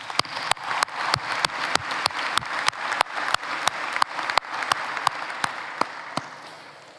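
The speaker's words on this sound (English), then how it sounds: "if we could please give them a round of applause" An audience at a college commencement applauds for several seconds, a dense, sustained clapping with a few sharp, distinct claps standing out, fading slightly toward the end.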